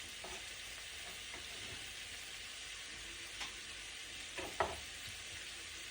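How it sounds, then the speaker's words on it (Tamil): Onion, garlic and ginger sautéing in a pan on medium heat for hot chilly baby potatoes, a faint steady sizzle with a few soft stirring scrapes and clinks. "இதை வதக்கி இதையும் சேர்த்து இப்போ வதக்குவோம்."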